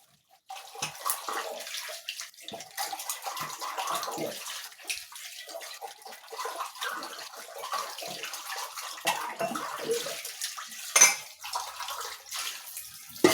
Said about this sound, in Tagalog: Napakasarap maglaba ngayon.